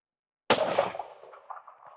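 Single rifle shot from a Christensen Arms Ridgeline 30-06 on an outdoor range: a sharp, loud crack after brief silence, followed by a rolling echo that fades over about a second and a half.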